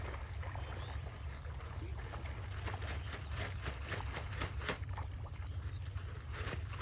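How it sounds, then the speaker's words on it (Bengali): A whole 25 kg sack of floating fish feed pours into a pond in a steady, close, rushing cascade, a continuous grainy hiss with splashy texture that holds evenly throughout. "পুরো বস্তাটা ঢেলে দেওয়া হচ্ছে, 25 কেজির বস্তার পুরো বস্তাটা, এটা বাংলা ফিড আর কি, ভাসমান।"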